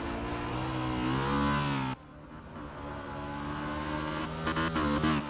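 V8 Supercars race cars scream past with high revving engines. One loud pass drops off abruptly partway through, then another car approaches and builds in pitch and volume, all without commentary.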